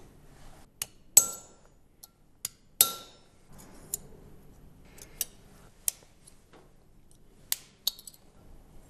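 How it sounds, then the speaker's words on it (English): Snap rings are fitted onto the bearings of a driving device assembly, producing a series of sharp metallic clicks and taps at irregular intervals in a quiet room, some louder and ringing, with no talking. "Mount the two snap rings holding all the parts together."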